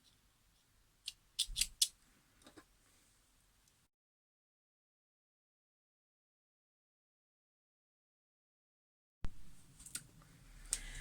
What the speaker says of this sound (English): And then you can snip off your thread.